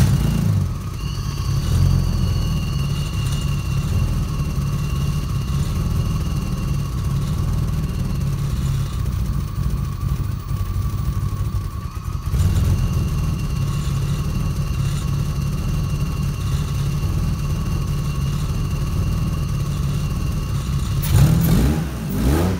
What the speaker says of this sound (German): Werden wir nochmal probieren zu starten.